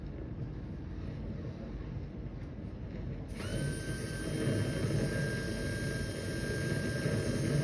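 A rotary dental disc trims a composite veneer. A steady high-pitched whine cuts in partway through and holds over low background noise, and no one speaks over it.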